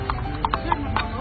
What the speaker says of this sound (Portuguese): e um cavalo tá puxando